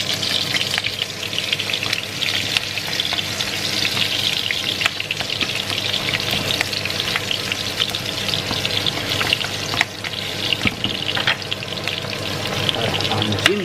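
Garlic and onion sauté in a hot pan with a dense, continuous sizzle. Spatula scrapes and clicks repeat throughout as the pan is stirred.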